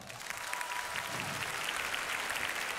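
A live stand-up comedy crowd in a theatre breaks into dense, continuous applause, loud and even throughout without a break.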